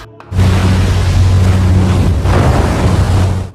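Ocean surf on a beach rushes in a loud, broadband wash with a low rumble and wind buffeting the microphone, rising abruptly after a brief quiet start and holding steady.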